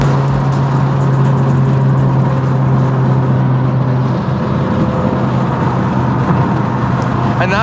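A turbocharged Subaru BRZ making 350 wheel horsepower on E85 fuel, pulling hard with a loud, dense engine and exhaust roar heard from inside the cabin, a droning tone holding steady beneath the noise, with a voice partly under it.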